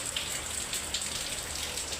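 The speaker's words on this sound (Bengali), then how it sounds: "অনেক বৃষ্টি আর বাতাসও খুব।" Heavy rain pours steadily on a rooftop in a dense, even hiss, with the roof's tin sheets audible, wind blowing through the downpour and no voices.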